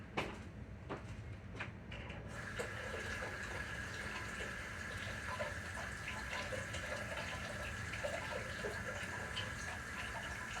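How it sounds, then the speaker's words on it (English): Tap water runs steadily in a kitchen as a utensil is rinsed off, a continuous close splashing stream that starts after a couple of quiet seconds and continues without pause. "Easy to wash too. Just rinse it off."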